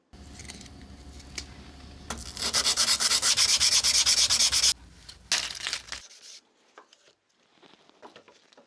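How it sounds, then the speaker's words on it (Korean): Steady rubbing and scraping of sandpaper on a knife's metal, growing louder and faster in the middle, then fading to lighter, scattered strokes. "이 사포를 순서대로 사용하면서 약 2000번 정도의 사포까지 올라가 줄게요"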